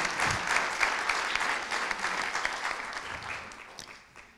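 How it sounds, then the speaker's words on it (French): A conference audience at a debate on sustainable food applauds steadily in a hall, the dense clapping holding for several seconds before gradually thinning and fading out. "Vous pouvez aussi les applaudir."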